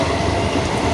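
A passenger train runs along the tracks, a loud steady rumble and rattle of carriages heard close by for a moment, with no speech.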